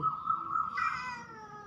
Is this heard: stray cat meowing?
yes